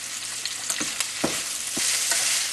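Salted onions browning for seeni sambol sizzle loudly and steadily in a pan up close, with a few soft scraping strokes of a spoon stirring through the hiss.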